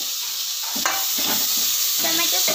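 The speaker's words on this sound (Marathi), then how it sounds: "आता आपण त्याच्यात चिरलेला टोमॅटो टाकूयात" Chopped tomato sautés with browned onion in a pan: a continuous bright sizzle with clustered scraping and stirring sounds, close and moderately loud, with no one talking.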